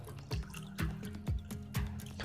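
Several distinct drops of blue ink fall into a beaker of water in a chemistry demonstration, each a soft liquid plink arriving at a steady rhythm, close and clear with no talking.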